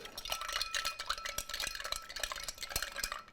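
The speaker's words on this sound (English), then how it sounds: "I'm gonna get my ice and stir" Ice is stirred in a cocktail mixing glass for an Old Fashioned, giving quick, rhythmic clinks and rattles of cubes against glass, close and continuous.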